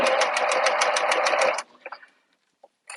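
A sewing machine stitches a vinyl wristlet seam at a 3/8-inch allowance, running steadily and close for about a second and a half with a rapid even needle rhythm, then stopping, followed by a few faint handling clicks.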